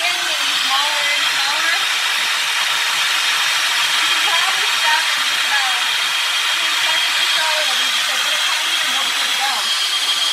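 A blender purees well-cooked onions into a homemade sauce, giving a loud, steady motor whir with a gritty churning texture that runs unbroken from start to finish.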